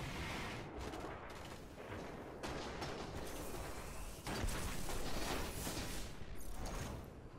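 Rocket launcher fire and heavy explosions against a boss in the Destiny video game, a dense barrage of booming blasts and gunfire that swells louder toward the end, no talk.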